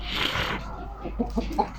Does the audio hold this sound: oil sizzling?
no